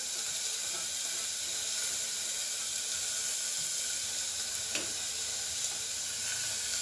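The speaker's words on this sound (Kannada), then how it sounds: "ಸೊ ಈಗ ನಾವು ಎಲ್ಲ ತರಕಾರಿಗಳು ಹಾಕಿದ್ದೀವಿ. ಸೊ ಇದೆಲ್ಲ ಸ್ವಲ್ಪ ಫ್ರೈ ಆಗಬೇಕು ಚೆನ್ನಾಗಿ." Chopped vegetables with tomato and spinach fry in a pan with a continuous soft sizzle and hiss, close and steady, with a faint clink partway through.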